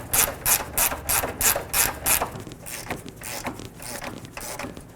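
A ratchet tightening a lower control arm bolt on a 2009-13 Mazda 3, with rapid rhythmic clicking bursts in quick strokes, loud and close, then slower, fainter ratcheting toward the end.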